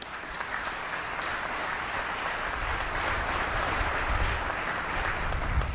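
Steady applause from the audience at a U.S. Indo-Pacific Command military change of command ceremony, dense and continuous at an even level for several seconds with no pauses.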